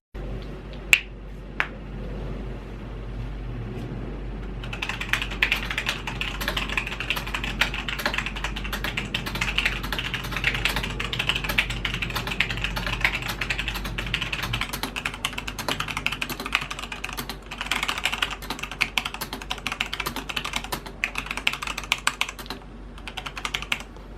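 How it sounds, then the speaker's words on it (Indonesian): Typing on a Logitech G910 Orion Spectrum gaming keyboard, a dense, steady stream of soft, rubbery keystrokes that runs continuously with no talking, after a few isolated taps at the start. "Nih gua ngetes langsung ngetik ya."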